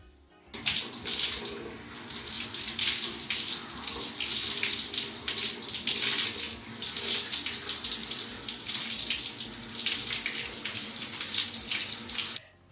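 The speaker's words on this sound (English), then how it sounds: "you rinse out your conditioner with cold water" Cold water runs steadily from a tap while conditioner is rinsed out of natural curly hair, a close, continuous splashing stream that starts abruptly and stops near the end, with no talking.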